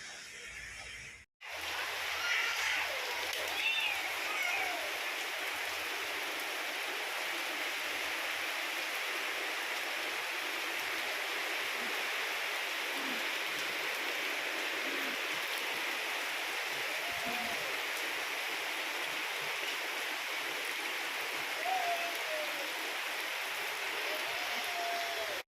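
Heavy monsoon rain pours steadily, a dense even hiss that runs unbroken from a moment after the start to the end, with faint occasional voices far in the background.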